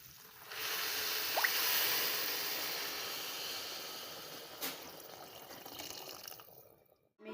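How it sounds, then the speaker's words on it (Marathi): Water pours steadily into a pressure-cooker pot of washed rice for khichdi. The close, rushing stream swells, then thins, with a brief splash near the end before it stops. "पाणी टाकायचं आहे"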